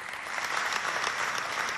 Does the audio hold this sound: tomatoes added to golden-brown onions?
no